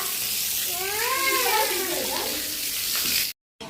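Water poured out at a home during a family wedding celebration: a steady splashing wash runs throughout, with a voice briefly over it midway before a sudden stop near the end.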